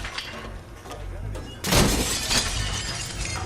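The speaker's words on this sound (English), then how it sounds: "This mirror smashing was not planned, and Gyllenhaal ended up with a massive gash" In a film scene, a bathroom mirror is smashed during a fit of rage, giving a sudden loud shatter of breaking glass and a crashing tail over a murmur of background sound.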